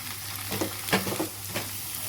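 Chopped ingredients for a schezwan pizza topping sizzle in a pan, a brief close hiss broken by a few quick stirring clatters and scrapes.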